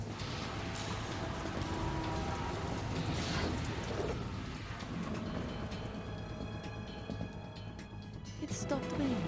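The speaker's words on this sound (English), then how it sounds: "It stopped raining." Steady rain in Metal Gear Solid 2 on the tanker chapter, a dense, continuous wash of falling water with low rumbling underneath, persisting throughout at moderate level.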